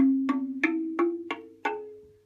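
Six evenly spaced wooden knocks sound close up on a slit drum, each with a short hollow ring, over a faint sustained hum.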